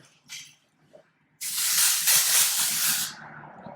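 A long, steady dry shampoo aerosol spray hisses close by onto hair for about a second and a half, preceded by a few brief soft rustles.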